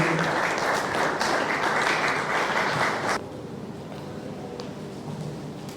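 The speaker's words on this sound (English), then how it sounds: "with a resounding round of applause, let's welcome on stage Dr. Titilola Ahmed" Audience applause at a workplace health and safety gathering, a dense steady wash of many hands for about three seconds before dropping to a quieter, thinning patter that lingers to the end.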